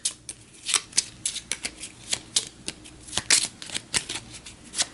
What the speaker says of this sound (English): So I'll give that a quick shuffle on camera here.